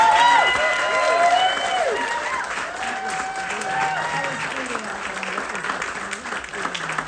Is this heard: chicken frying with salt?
no